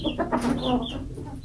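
Several caged chickens cluck noisily and continuously at close range, with overlapping agitated calls and squawks filling the short stretch.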